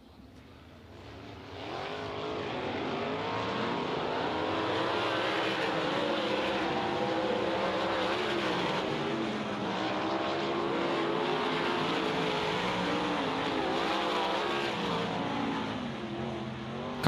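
Race cars at Lernerville Speedway circling behind the pace truck, a continuous loud engine drone with wavering pitch as the pack passes, steady for most of the stretch with no talk over it.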